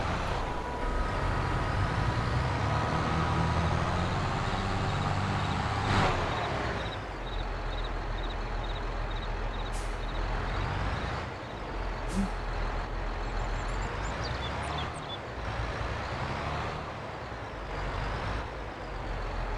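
A farm vehicle in Farming Simulator 22 drives and maneuvers into a parking spot, its engine droning steadily with a hiss of air brakes and a run of reversing beeps midway.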